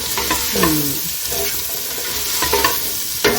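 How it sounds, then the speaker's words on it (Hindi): Onion and carrot frying in a pan for chicken chow mein, a bright, continuous sizzle with scraping stirs and a few clinks against the pan, close and loud with no talking. "हल्का सा प्याज को हमने नरम करना है, और नरम करने के बाद उसमें हमने गाजर डाल दी है।"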